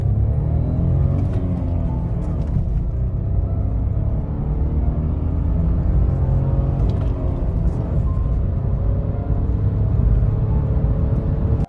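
A 2023 Renault Clio's turbocharged engine drives in sport mode, a steady low in-cabin drone with road rumble that holds fairly even throughout.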